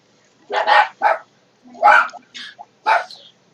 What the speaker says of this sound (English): he's just messing with the dogs. He's going over there and jaunting in front of the fence, and so the dogs will bark at him